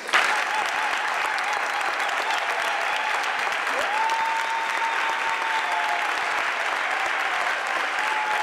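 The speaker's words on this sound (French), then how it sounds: "je crois que nous pouvons t'applaudir" Church congregation at an Easter Vigil in Moutier applauding a newly baptized person, a steady burst of many hands clapping in a reverberant space, loud and continuous, with a sustained organ-like tone beneath.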